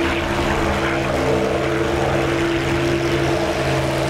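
A WWII propeller warbird in a DCS dogfight against an MB-339 jet, with its engine giving a loud, steady, close droning hum and no pauses or voices.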